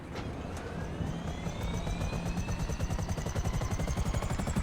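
Helicopter flying in GTA Online, a steady loud engine drone with a rapid rotor throb and a slowly rising whine, holding constant throughout.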